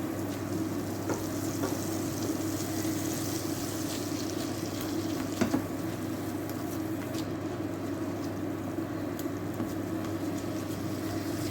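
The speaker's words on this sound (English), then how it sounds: "we're going to melt the butter" Butter melts with sausage meat in a pan over low heat, giving a soft, steady sizzle with occasional faint crackles and no talking.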